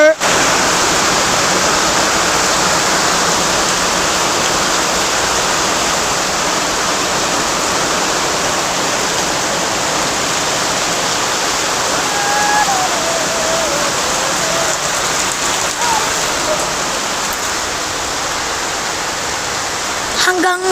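Heavy typhoon rain pours down steadily in the Philippines, a dense, unbroken hiss and roar that holds at a constant loud level for about twenty seconds.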